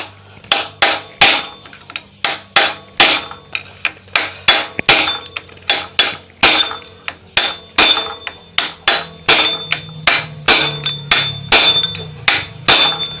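Loud, rhythmic hammer blows strike the clutch assembly of a Honda Supra motorcycle during a double clutch bowl and clutch plate replacement, a long run of sharp metallic hits at a steady pace with no talking.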